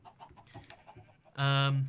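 Chickens on a video game farm, soft scattered clucks and murmurs followed by one loud, close, drawn-out squawk near the end.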